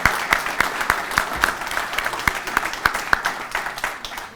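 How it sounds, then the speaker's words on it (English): An audience at an anniversary celebration gives a round of applause, steady dense clapping with distinct individual claps standing out, moderately distant and continuing throughout. "did you stand up and get a round of applause?"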